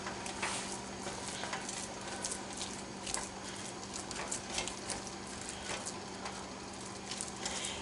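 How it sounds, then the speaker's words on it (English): Ground turkey and chopped onion browning in a hot skillet give a steady, close sizzle with scattered crackles and occasional stirring scrapes, continuous throughout. "just brown this ground turkey up along with the onion"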